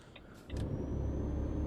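A truck tractor unit running without a trailer in Euro Truck Simulator: after a brief quiet moment, its engine settles into a loud, steady low rumble while driving.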